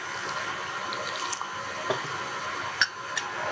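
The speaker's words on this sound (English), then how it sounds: "We need 3/4 cup of boiling water, and we have the water heated on the stove" Three-quarters of a cup of boiling water, heated on a stove, is poured for devil's food cake batter, giving a steady, close liquid trickle with a few small clinks and drips, no voices.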